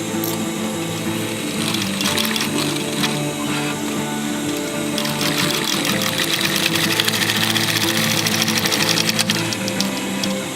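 A sewing machine runs steadily and loudly for the whole stretch, double stitching the seam of a fabric boxy bag with handles, its rapid mechanical whir and needle clatter continuous with no talking.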